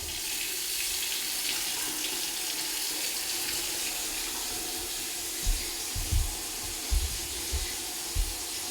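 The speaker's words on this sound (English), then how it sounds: "I'm just gonna run my tap and check for leaks." A bathroom tap runs steadily into a newly installed vanity sink drain, a loud, even rush of water with a few low thuds and gurgles near the end.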